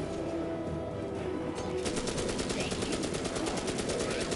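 An M60 machine gun firing in the video game Magicka, with enemies being mowed down. After a muffled start, rapid, steady automatic bursts rattle on without a break under a busy backdrop of game noise.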